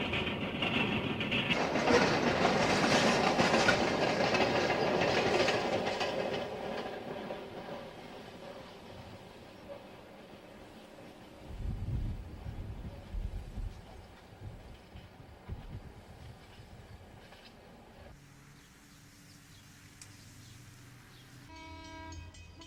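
A Wabash Railroad freight train with ice-cooled refrigerator cars rolls past, loud at first with a horn and steady rumble, then fading to a softer clatter of cars and wheels.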